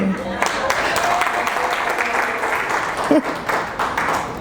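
Audience applause at a breast cancer awareness event, a steady wash of clapping filling the room at moderate loudness, with a voice briefly audible partway through.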